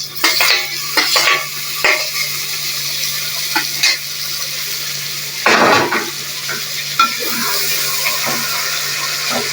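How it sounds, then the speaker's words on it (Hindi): Tomatoes tipped into frying chicken with green chillies and stirred in the pan, giving a steady loud sizzle with scraping spoon strokes and a few sharper bursts of hiss, no talking. "अब साथ में हम टमाटर डाल देंगे।"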